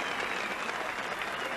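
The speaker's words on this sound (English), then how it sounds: "And applause for Brian Irwin" Football crowd applauding player Brian Irwin at a Dundalk FC European home match against Kispest Honved, a steady dense wash of clapping from the stands throughout, fairly distant, with no pauses.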